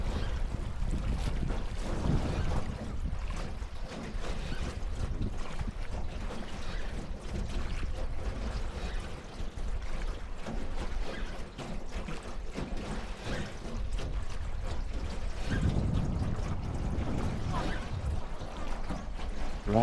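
A small boat moves across the water at Tam Cốc in Ninh Binh, Vietnam, giving a continuous rushing, splashing wash mixed with wind buffeting on the microphone throughout.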